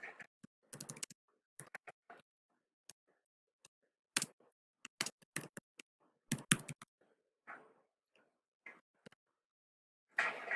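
Computer keyboard typing into a whiteboard text box, heard as sparse, irregular clicks and short clusters of keystrokes separated by silent pauses, close and fairly quiet with no voice.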